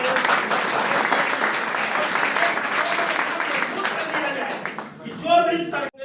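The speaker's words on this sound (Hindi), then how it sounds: "मैं चाहूंगा जोरदार तालियों से" Sustained audience applause fills a large gathering at a religious event, dense and steady clapping for several seconds before fading out near the end, where a voice briefly speaks.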